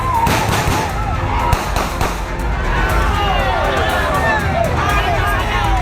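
Police warning gunshots crack out repeatedly into the air over a noisy, agitated crowd shouting and milling about outdoors.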